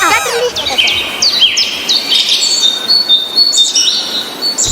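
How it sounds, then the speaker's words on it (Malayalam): Several birds chirp and tweet loudly and close by in quick, overlapping bursts of high calls that keep going throughout. "ഈ കിളികളൊക്കെ ഭയങ്കര ശല്യം തന്നെ അല്ലേടാ"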